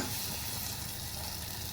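Drumsticks (moringa pods) and cooked toor dal sautéing in a pan for a sour-sweet amti, giving a steady, close, continuous sizzle and frying hiss with faint stirring, no voices.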